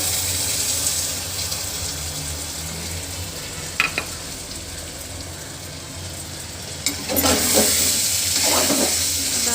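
Onions fry in a pan with a steady, close sizzle and hiss, broken by a few sharp stirring clatters and a louder burst of frying toward the end; no one speaks.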